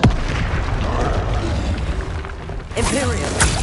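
Explosion spells cast in Hogwarts Legacy burst out as repeated loud booms and blasts, with a louder crash near the end over a steady background of game noise.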